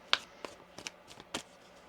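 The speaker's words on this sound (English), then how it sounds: "One more shuffle here." Tarot cards shuffled by hand, a few quick papery riffles and flicks spaced through a short, quiet moment with no talking.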